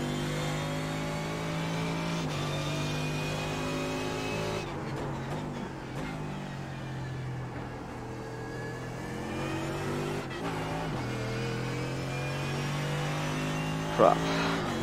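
Zakspeed Mercedes GT3 race car engine in iRacing at the Nürburgring, droning steadily with sustained revving and gear-shift dips throughout, loud and close, with a brief sharp click near the end.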